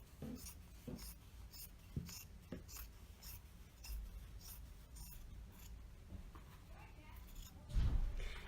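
Scissors cutting across the top of a shirt fabric, a series of soft, crisp snips at a quiet, close range, with a faint bump near the end.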